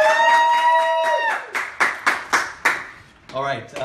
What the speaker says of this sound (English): I'll give myself a round of applause